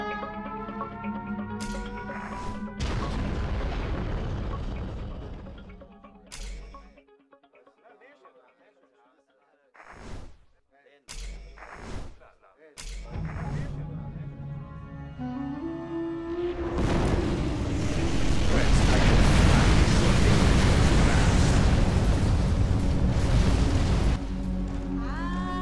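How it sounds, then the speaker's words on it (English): In the Generals: Shockwave strategy game, a nuclear missile launches with booming blasts and sharp hits, then a long, heavy roaring explosion builds and holds, with game voices speaking over the early part. "Launching nuclear missile."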